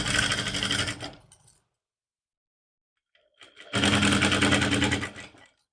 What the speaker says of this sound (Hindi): अब इसमें हम मुड्ढे की तरफ सिलाई लगाएंगे इस तरह से।